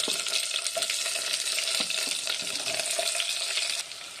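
Onions, green chillies and cashews fry in ghee for a vegetable pulao, a steady close sizzle with faint stirring clicks that drops off abruptly near the end.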